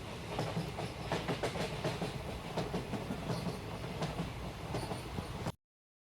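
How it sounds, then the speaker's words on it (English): A New York City MTA Q subway train rumbles past with steady rattling and clickety-clack of wheels over the rails, loud and continuous before cutting off abruptly. "Then finally the Q train."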